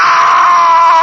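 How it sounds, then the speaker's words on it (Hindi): A woman's piercing scream, used as a sound effect in a Hindi horror story, rings out loud and close as one sustained, high, strained cry lasting about a second. "तो बस उसकी चीख,"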